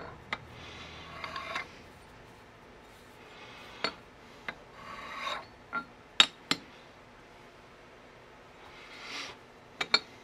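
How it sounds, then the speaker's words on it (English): A scribe marks centre lines on metal for a mower deck dolly build in a workshop, making a few faint scratching strokes and sharp clinks scattered over a quiet background. "So we're going to get our center line. We're just going to scribe some marks."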